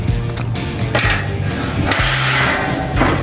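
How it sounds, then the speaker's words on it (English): A metal grill grate is set onto an outdoor grill in an old-style backyard cookout, giving a few loud, close clanks and knocks over a low background rumble. "But what we will do is put the grill grate on."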